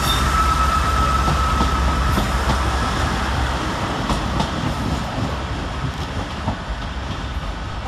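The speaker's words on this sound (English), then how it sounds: "departing the other way is its opposite number 158889 and 158866 with the 1042 East Midlands Railway service" East Midlands Railway class 158 diesel units 158889 and 158866 departing Manchester Piccadilly station, a steady loud rumble of engines and wheels on track with faint squeals, heard at close range.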